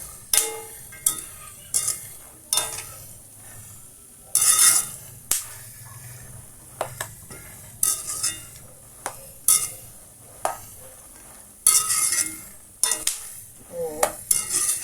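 Peanuts frying with garlic in a pan give off sharp, irregular pops and clinks close by, repeating every second or so over a faint sizzle, with someone talking between them.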